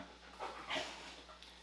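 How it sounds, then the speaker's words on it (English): Quiet, breathy dog panting close by, a few soft huffs rising slightly over a low background hum. "I just let my dog in the room, so I apologize for any panting or itching that happens"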